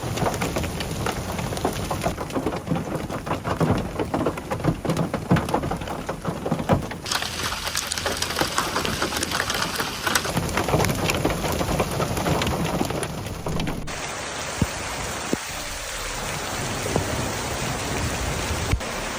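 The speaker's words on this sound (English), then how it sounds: "Heavy rain turned streets into rivers" A heavy rain and hail storm hammers down as a dense, steady roar of pounding water and ice, loud and unbroken, with a few sharper impacts near the end.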